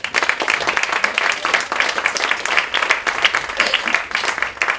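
Lively audience applause at a presentation event, dense energetic clapping throughout, loud and close, with no speech over it.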